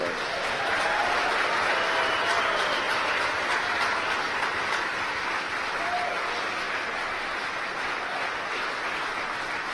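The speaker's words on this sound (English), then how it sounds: "You hear the applause in the background here stage in Hawthorne." Steady, dense applause from a crowd gathered at Hawthorne during a Falcon 9 rocket launch, loud and continuous throughout with only a slight easing toward the end.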